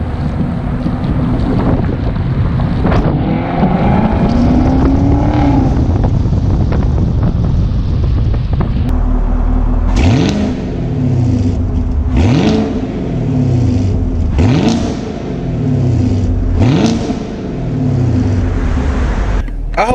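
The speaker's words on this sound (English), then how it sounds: "number 3 is going to be the exhaust. Now from the factory, this car sounds amazing." Stock exhaust of a 2019 Chevrolet Camaro SS in track mode: a loud idle rumble, then four or five sharp throttle blips that rise and fall in a steady rhythm, heard close with wind buffeting the microphone and no talking.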